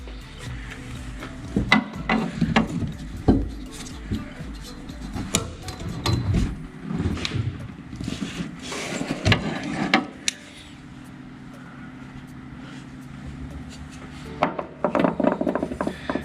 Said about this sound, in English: There just isn't enough room in here to use a strap wrench, so I'm going to have to use a pair of pliers